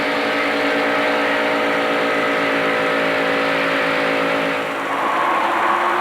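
NASCAR stock cars racing three abreast in the 1992 Winston 500, a loud continuous engine roar with steady whining harmonics that shift slightly as the pack passes, close and dense throughout.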